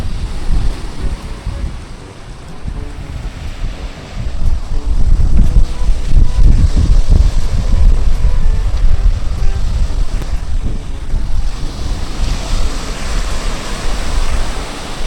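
Steady surf roaring along a shoreline, broad and wind-blown, swelling louder after a few seconds and holding as a continuous wash of breaking waves.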